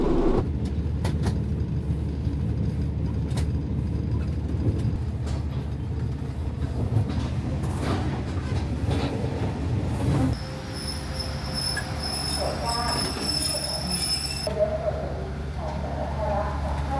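A Bangkok to Krabi sleeper train in Thailand rumbles steadily along with a low rolling drone and occasional clanks, while a thin tonal whine appears partway through.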